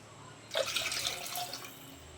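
Water pours briefly into a cooker for drumstick leaves soup, a short gush and splash lasting about a second, then fading to quiet.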